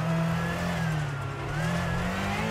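A rally car engine revs and accelerates in EA Sports WRC, a loud continuous mid-pitched drone that rises steadily with a brief dip partway, with no talk over it.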